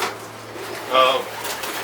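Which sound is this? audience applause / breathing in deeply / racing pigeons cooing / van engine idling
racing pigeons cooing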